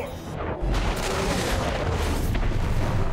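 Battlecruisers fire in the StarCraft 2: Legacy of the Void campaign, heavy booming cannon blasts rolling over one another in a loud, sustained barrage with no speech.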